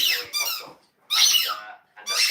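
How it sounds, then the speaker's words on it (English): A puppy chews a squeaky toy indoors, producing three bright, high-pitched squeaks close by, each squeezed out in a short burst with brief pauses between. "Now, I don't usually allow squeaky toys."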